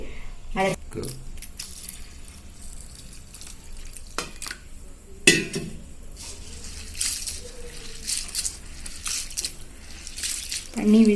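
Whole wheat grains being washed in water for dosa batter, with intermittent splashes, drips and sloshing bursts scattered across the stretch, fairly quiet between the louder wet movements.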